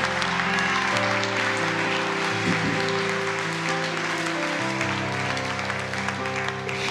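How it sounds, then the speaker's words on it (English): A church congregation applauds during a service. The steady crowd clapping sits under sustained organ or keyboard chords that keep playing throughout. "Give them a big round of applause."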